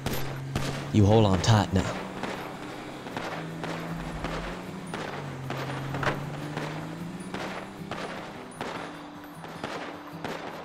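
Gunfire in the video game GTA V: rapid bursts of shots crackle repeatedly across the whole stretch, fairly close and moderately loud, while someone speaks briefly over the shooting.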